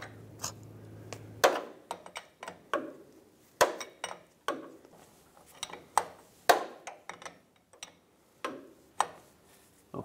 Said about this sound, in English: Grab a 17 millimeter wrench and tighten it up.